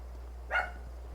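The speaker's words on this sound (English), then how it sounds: "The dog is barking at ghosts." A single dog bark rings out briefly in a video game scene, mid-distance, over a steady low hum, with no talking.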